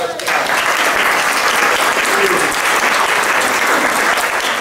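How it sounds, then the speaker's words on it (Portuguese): Loud sustained applause from a church audience, a dense continuous roar of many hands clapping close by, starting abruptly and holding steady throughout. "uma salva de palmas"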